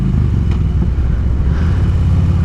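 A blacked-out Ford Mustang passing on the road, a loud, deep engine rumble that holds steady throughout with no voices over it.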